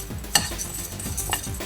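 Chana dal and cumin seeds dry-roast in a pan without oil, with quick rustling scrapes and a couple of sharper clicks as they are stirred, close and fairly loud.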